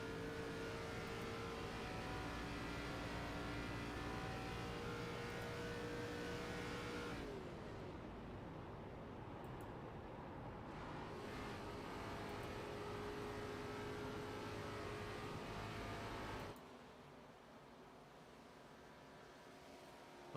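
ARCA stock cars circling a race track, a continuous loud roar of engines with droning tones shifting as cars pass, the field thinning and the sound dropping near the end.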